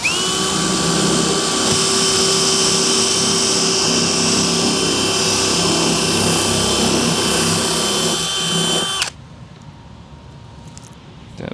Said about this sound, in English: So we'll put us a 3/4 inch hole right here.